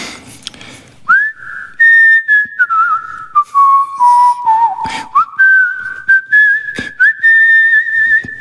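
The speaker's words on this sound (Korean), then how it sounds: "캐롤 휘파람 한번 해주시나요?" Solo whistling of a Christmas carol melody live on a radio broadcast, clear and close, with sustained pure notes gliding between pitches and brief breaths between phrases.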